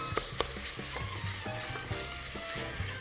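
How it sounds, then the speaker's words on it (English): Onion and bacon sauté gently in a pan for soup, giving a steady close sizzle with a light crackle and occasional soft stirring sounds. "we're just sautéing them down, sweating them off, making the onion soft"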